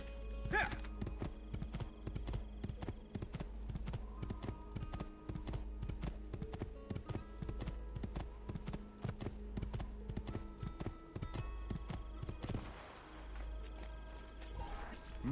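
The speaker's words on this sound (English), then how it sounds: "Ah, a horse." Horse hooves clip-clop in Assassin's Creed II, a rapid, steady run of sharp hoofbeats close up, continuing for most of the stretch before a brief shift near the end.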